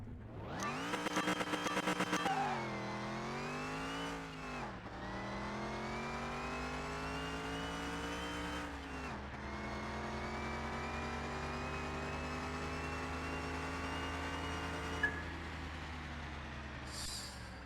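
A race car engine in Car Mechanic Simulator 2021 revs hard and climbs through several gear shifts. Each rising whine is broken by a short dip, and the car drives away loud and alone.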